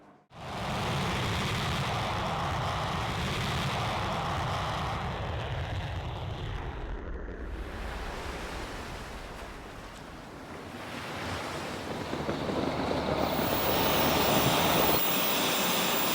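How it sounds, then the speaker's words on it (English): Fighter jets, RAF Typhoons and Swedish JAS 39 Gripens on an air policing mission, make a loud, sustained broadband roar that dips slightly midway, then swells again toward the end, with no talk over it. "rather noisy visitors, fighter jets from the UK and Sweden, including this Jazz 39 Gripen"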